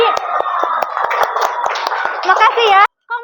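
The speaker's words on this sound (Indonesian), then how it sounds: "tepuk tangan dong sekali lagi udah berani." Classroom students give a short round of hand clapping, sharp individual claps standing out over chattering young voices, ending abruptly with a brief voice after.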